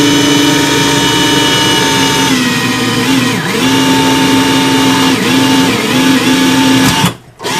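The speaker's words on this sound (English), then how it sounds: "I'm going to drill straight down." A power drill whines loudly and steadily as it bores straight down into the wood of a Kay K536N acoustic guitar, pitch dipping briefly under load a few times before the motor cuts off.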